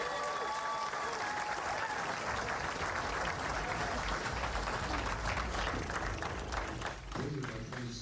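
A sold-out crowd at a PBA Tournament of Champions bowling event at AMF Riviera Lanes in Fairlawn applauds loudly and steadily. Dense clapping fills the whole stretch, with a brief dip near the end.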